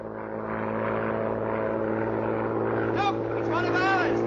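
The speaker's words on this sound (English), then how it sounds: "Sounds like an aeroplane." A propeller airplane engine drones overhead in a 1942 wartime film, a steady humming that grows slightly louder, with people talking over it.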